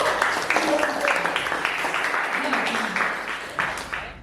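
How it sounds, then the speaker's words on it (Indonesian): A classroom audience applauds during an Islamic religious education teaching session, steady clapping from many hands held at an even level for several seconds with no voices over it. "Kita beri aplaus."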